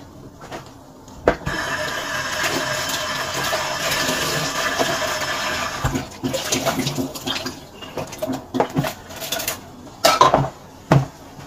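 Peeled vegetables are rinsed in a kitchen sink: running water pours steadily, then gives way to clattering dishes and splashing handling sounds, close up and with no talking.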